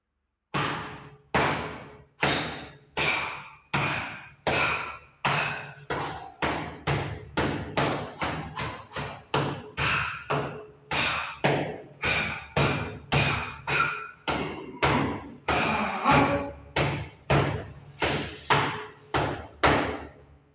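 Bare hands and forearms pound repeatedly against a hard surface in hardening drills for fighting, a steady series of loud, sharp thuds landing about once a second, each with a short ringing decay, with no voices.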